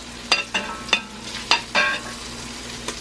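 A spoon scrapes and clinks against a cast iron pan while lifting out cooked chicken thighs for butter chicken, several sharp scraping knocks in quick succession over a faint steady sizzle.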